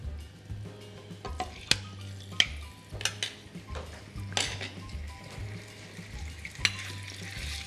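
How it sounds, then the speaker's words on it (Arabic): Chicken frying in olive oil in a pot, a soft steady sizzle broken by clinks and scrapes of a utensil stirring against the metal, close and fairly quiet. "لكن هلا نحن عم نقلي الدجاج يلي وضعناه بطنجره"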